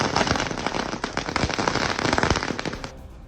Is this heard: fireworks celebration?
yes